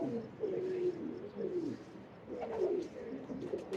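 Teddy breed pigeons coo softly and repeatedly, low throaty rolling calls in a quiet loft with a faint background hiss and no talking.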